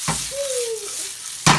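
Bacon sizzles as it fries in a pan, a soft steady crackle with a brief clatter at the start and end and a faint thin squeal in between; no one talks.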